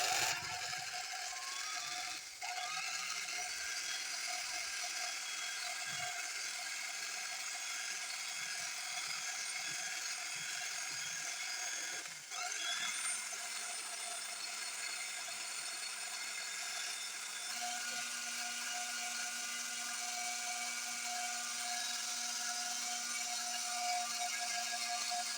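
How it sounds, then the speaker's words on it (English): An electric mixer whips cream into homemade salted butter, running as a steady mechanical whir with a ratcheting, grinding edge throughout, close and continuous, with a slight shift in pitch partway through and no voices. "we're just going to use the mixer and do what we have to do"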